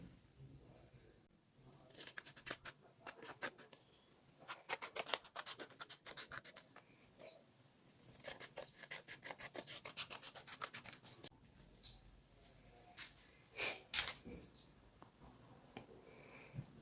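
Scissors cut out a paper pattern dart for an off-shoulder bustier, with quiet close bursts of rapid snipping and crisp paper rustling in uneven clusters and short pauses between them.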